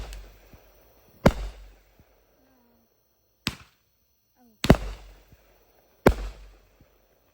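Saturn missile fireworks at a Fourth of July show: four sharp, loud cracks spaced a second or two apart, each with a brief rattling tail, alongside faint whistling between bursts.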